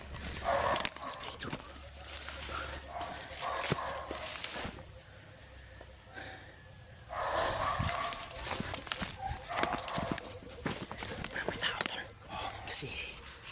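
Dogs barking outdoors, several yaps and whimpers scattered at a moderate distance, mixed with people talking and background noise throughout.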